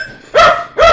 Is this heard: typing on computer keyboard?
no